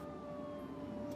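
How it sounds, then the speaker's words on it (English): A police siren wails faintly from somewhere distant, holding a steady tone through a brief moment over low background rumble. "Do you hear those sirens?"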